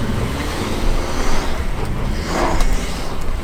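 A Subaru Forester Wilderness creeps slowly up a steep hill, a loud, steady low rumble of engine and road noise with some wind, no talk.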